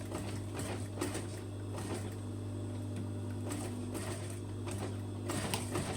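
A sewing machine top-stitches along the edge of a T-shirt, a soft steady hum broken by short bursts of rapid stitching.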